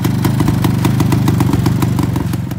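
A V3 two-stroke Grand Prix racing motorcycle engine runs steadily at a fast, even idle, with a loud, close, rapid buzzing pulse throughout.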